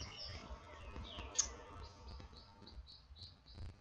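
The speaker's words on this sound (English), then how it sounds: "There's a lot of birds in the yard." Faint birds chirp and tweet in a spring yard, heard through an open door and observatory dome, with small repeated calls over quiet background hum.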